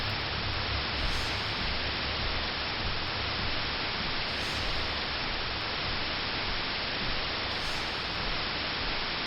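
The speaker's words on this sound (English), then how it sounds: "You only see white noise." A television set in the video game Fear & Hunger 2: Termina gives off a steady, unbroken hiss of white-noise static, flat and constant throughout, with no voices.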